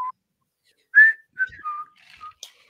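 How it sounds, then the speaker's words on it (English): Someone whistles a short tune, a few clear, separate notes rising and falling in a quiet room. "Especially if you whistle it."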